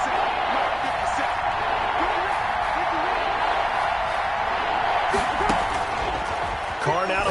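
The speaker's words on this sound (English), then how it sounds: "The crowd getting into it as we come up on a big 3rd down." Stadium crowd noise in an American football video game swells as a steady, dense roar with scattered shouts, running continuously at moderate volume.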